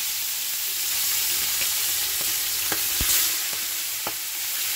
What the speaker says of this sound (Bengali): সুন্দর করে আমি ভেজে নেবো মাছগুলো।